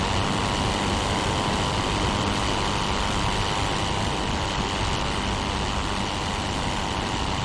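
Fokker E.II rotary engine in a World War I flight simulator game, a constant loud drone with no breaks, steady and close, with no voices over it.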